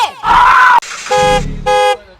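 A cartoon car pulls up and sounds its horn in loud, separate blasts: one long tone, then two shorter honks, with an engine rumble between them.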